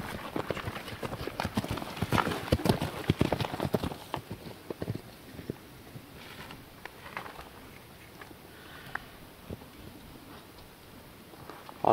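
An Argymak horse walks with a steady, rhythmic clip-clop of hooves, close and distinct at first, then softer and more even, with no talk.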